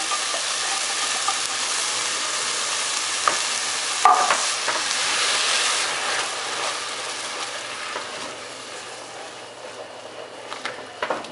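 Cream of broccoli soup being stirred into ingredients in a hot pan for a tuna casserole, with a steady soft sizzle and scraping stir strokes throughout, close and continuous.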